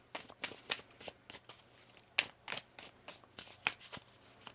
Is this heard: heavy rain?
no